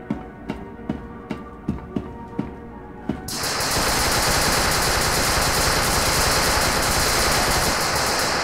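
Gunfire from a weapon in the video game SCP: Secret Laboratory: several sharp single shots, then a sustained loud burst of rapid automatic fire that runs on continuously.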